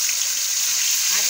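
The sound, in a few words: fish frying in a pan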